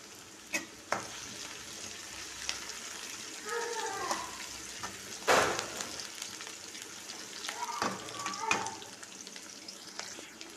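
Onions and chillies fried in oil with popped mustard seeds for puliyogare, a soft continuous sizzle with scattered spoon clinks and one louder scrape, close but fairly quiet.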